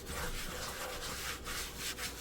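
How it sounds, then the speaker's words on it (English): Hands rub flour into the seams of wet 100% hydration sourdough bread dough, a soft, close, dry scuffing that swells and fades in short strokes. "And we come back and rub that flour"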